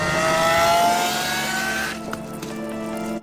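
A crashed Lamborghini SVJ sports car revs hard and loud nearby, its engine note climbing steadily before easing off and settling into a lower, rumbling idle.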